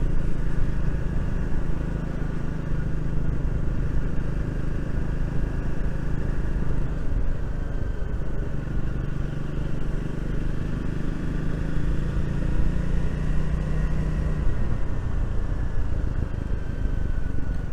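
The engine of a Triumph Speed 400 motorcycle burbles on the overrun during a ride, a steady low rumble under wind noise that carries on throughout with no speech.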